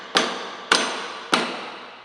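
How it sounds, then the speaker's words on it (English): Three sharp metallic hammer taps on the leg plates of a HAPPY HCD3-1501 embroidery machine, evenly spaced about half a second apart, each ringing and decaying, close and loud. "all we need to do is tap them with a hammer so they swivel this way"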